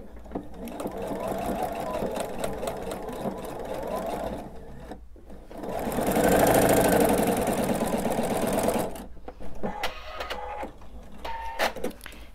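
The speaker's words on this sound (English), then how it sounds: "gonna go ahead and sew them together with a quarter inch seam" A sewing machine stitches binding strips together with a quarter-inch seam, running steadily for several seconds in bursts, with a louder sustained run in the middle and brief pauses between passes.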